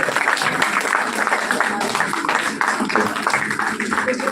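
Sustained applause from a gathered audience at a felicitation ceremony where guests are garlanded, steady and fairly dense throughout, with crowd murmur and possible speech mixed in.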